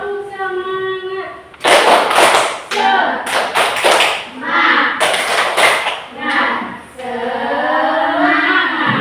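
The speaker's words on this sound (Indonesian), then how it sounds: "Tepuk semangat." Rhythmic group clapping by a class doing a spirited cheer-clap, a burst of sharp hand claps in quick patterned beats with voices before and after.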